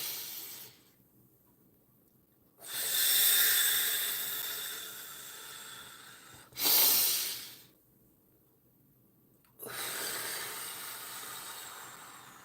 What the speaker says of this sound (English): let's do some deep breathing